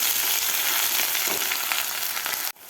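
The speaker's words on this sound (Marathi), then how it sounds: "2 ते 3 मिनिट आपल्याला हा मसाला परतून घ्यायचा आहे" Chana masala spice mix sautéing in a hot pan for chhole, a steady dense sizzle with faint stirring scrapes that cuts off abruptly near the end; no voices.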